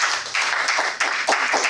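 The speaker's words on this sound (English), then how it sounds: "let's give Dee a round of applause" An audience at a Toastmasters club meeting gives brief, close applause, with a steady wash of clapping and a few sharper individual claps standing out.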